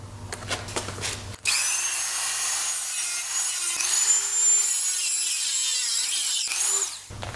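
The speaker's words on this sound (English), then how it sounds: "Alright, we got our Dremel." A Dremel rotary tool cuts slots into a part on a Jaguar F-Type (X152), giving a steady, loud high-pitched grinding whine for about six seconds, with pitch dips as it bites in and a brief stop and restart near the end.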